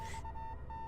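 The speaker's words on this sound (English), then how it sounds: "The beeping becomes gradually louder, almost as if it's trying to tell me something." Morse code beeping in the video game Death Mark: a steady electronic tone broken into short and long pulses, faint and even, with no voice over it.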